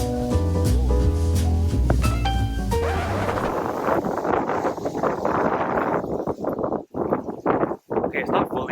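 A strong, cold wind near Mt. Fuji gusts loudly and unevenly across the microphone, replacing a brief stretch of tonal music heard at the start.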